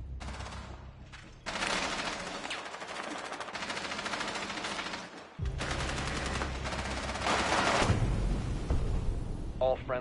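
Heavy automatic gunfire in a first-person shooter game, with dense, loud sustained bursts that pause briefly before resuming as a long barrage, with someone talking over parts of it.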